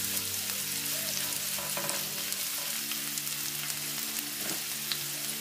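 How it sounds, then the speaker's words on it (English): Diced onion frying in vegetable oil in a hot pot, with a steady, close hiss and crackle of sizzling throughout and an occasional soft stir. "I will start by adding in 2 tablespoons of vegetable oil into my hot pot, and I'm going to be adding in my diced onion"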